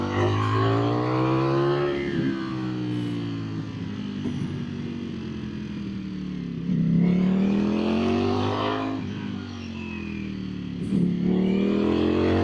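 A 2025 Ducati Streetfighter V4 motorcycle roars steadily along open road, its engine note climbing and dipping through repeated rev rises and gear changes, loud and close throughout with constant wind rush.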